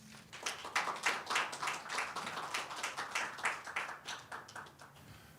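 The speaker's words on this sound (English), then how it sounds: "Let's please give a round of applause for Mr." Audience applause for Mr. Darrell at a cultural apprenticeship programme appreciation event, a steady wash of many hands clapping, moderately loud and sustained without talk.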